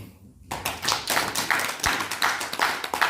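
Lecture-hall audience bursts into applause at a Korean public talk, a dense, steady clatter of many hands clapping close and loud for about two and a half seconds after a brief quiet start, with no speech over it.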